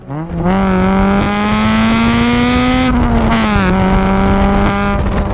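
A Honda B16 1.6-litre naturally aspirated four-cylinder from a first-generation Civic Type R revs loud and close, holding a high steady pitch with brief dips and climbs as the throttle is blipped, with no voices over it.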